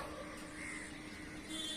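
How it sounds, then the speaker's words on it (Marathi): Crows caw faintly in the distance, a few scattered calls over a quiet outdoor background, with three crows and a young chick nearby. "हे तीन तीन कावळे हे तर पिल्लू दिसत त्यांचं"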